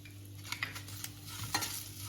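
Chili peppers for a spicy side dish are stirred in a pan, a low sizzle under a few soft scrapes and light taps of a spoon, faint and close.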